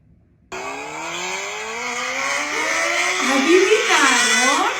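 A motorcycle engine revs up from a sudden start, its pitch climbing steadily and then wavering through several throttle swells, loud and close with no talk over it.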